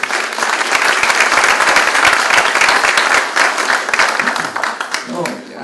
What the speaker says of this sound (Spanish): de ello se encarga el público con el aplauso para recibir a Cecilia